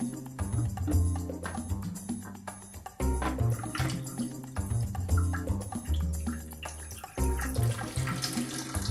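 Coolant drains out of a PC water-cooling loop during a rebuild, pouring and trickling steadily like a running tap, with brief interruptions and gurgling surges, close and fairly quiet, no speech.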